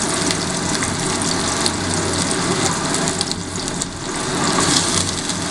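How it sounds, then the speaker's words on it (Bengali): Potatoes and cauliflower frying in a pan for Bengali home-style khichuri, a loud, steady hissing sizzle that sounds close and continuous, like rushing water, with no talking. "তারপরে আমরা আলুগুলো কপিগুলো ভেজে নিচ্ছি।"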